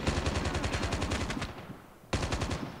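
Rapid automatic gunfire from Call of Duty: Mobile, loud and sustained bursts for about a second and a half, a brief lull, then another burst resumes.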